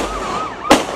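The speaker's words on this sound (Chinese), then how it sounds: "警方单枪匹马朝银色轿车轮胎猛开12枪，现场枪声四起" Police gunshot fired at the tires of a silver sedan during a street chase: a single sharp, loud bang near the end, over a wavering siren-like tone.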